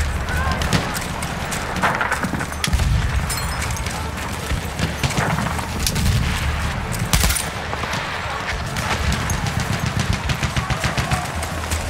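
Machine gun fire in the video game Battlefield 1, rapid bursts of shots crackling through a busy, loud battle mix, with people talking over it.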